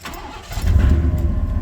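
A truck engine with new headers cranks briefly, then catches and settles into a loud, steady low rumble at close range.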